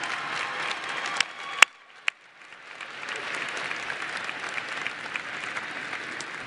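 Graduates at a university winter commencement ceremony applaud their family and friends, a broad, steady wash of clapping from a large crowd in a hall, briefly broken by a few sharp knocks before swelling back and sustaining.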